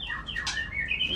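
A forest magpie-robin sings a brief, clear whistled phrase of rising and falling notes, close and fairly loud over low background noise.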